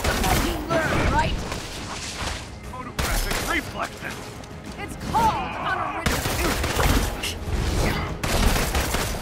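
Gunfire in Marvel's Avengers comes as dense, loud bursts of rapid shots and impacts, repeating in several volleys over a busy game soundscape, with someone talking intermittently underneath.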